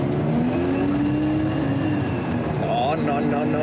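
A car engine accelerates with a rising tone, heard from inside the vehicle with steady road noise underneath.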